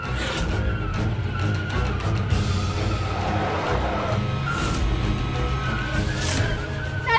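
A car drives on continuously with a steady engine hum and road noise, and some tire squeal or skidding comes through partway.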